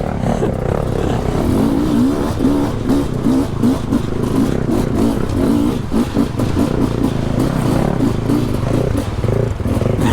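Adventure motorcycle engine revs steadily and loudly up close, a continuous rough drone with rapid pulsing and some mechanical clatter, no talk over it.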